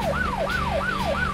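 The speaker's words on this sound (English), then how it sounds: "That's the siren." A wailing emergency vehicle siren repeats four even rising-and-falling sweeps over a low motor rumble, steady and fairly close.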